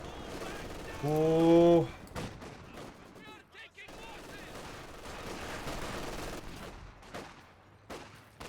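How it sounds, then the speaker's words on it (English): Machine-gun fire and other gunfire in the Company of Heroes 2 strategy game, sounding as rapid bursts mixed into busy battle noise under someone commentator's brief exclamation. "Oh, but he gets suppressed by the MG."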